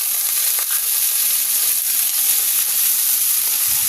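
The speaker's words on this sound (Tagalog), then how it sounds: "Tuloy lang natin ang paggisa. Isunod naman natin yung ating kamatis." Tomatoes sizzle and fry steadily in a hot pan while being sautéed, a close, continuous crackling hiss with faint scraping of stirring and no talk.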